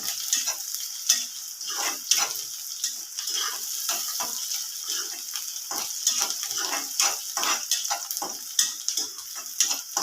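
Chopped onion fries in a pan for upma with a steady sizzle, broken by repeated scraping strokes of a spoon stirring it.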